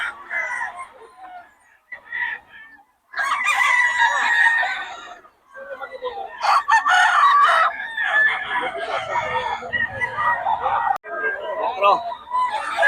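Gamefowl hens cluck and a rooster crows nearby at a market in Bocaue, in bursts over several seconds, with people talking between the calls.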